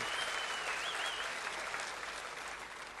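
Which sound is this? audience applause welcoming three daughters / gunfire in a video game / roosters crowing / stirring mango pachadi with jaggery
audience applause welcoming three daughters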